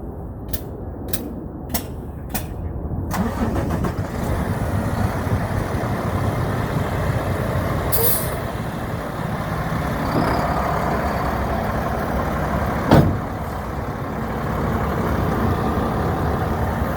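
A tractor-trailer truck pulling forward away from its uncoupled trailer, steady diesel engine rumble building as it moves, with a sharp air hiss and a brief clunk along the way.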